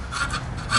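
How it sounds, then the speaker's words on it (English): A scraper rasps steadily across the inside of a metal pan in a van build, a continuous close scratching with slight rhythmic strokes and no pauses. "I'm scraping the inside of this pan."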